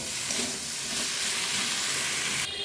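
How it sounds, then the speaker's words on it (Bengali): Potatoes and onions fry in a covered pan, giving a steady, close sizzling hiss that holds evenly throughout, with no voices. "ঢাকা দিয়ে আমি আলুটা পেঁয়াজটা একটু ভেজে নেব।"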